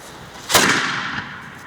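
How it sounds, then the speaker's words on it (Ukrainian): A single loud boom of an old muzzle-loading cannon shot bursts out suddenly, then rolls away in a fading rumble. "Увага! Постріл!"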